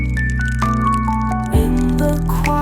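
Rain drops fall onto a lotus leaf by a pond, giving close, clear drips and soft squishy plops in an irregular rhythm, set against a steady tonal musical backing.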